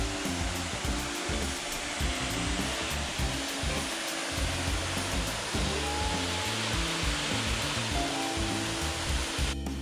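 A creek near Horseshoe Falls in Mount Field National Park, Tasmania, rushes steadily with a loud, dense hiss of flowing water. The sound is close and unbroken, with faint intermittent tones beneath the torrent.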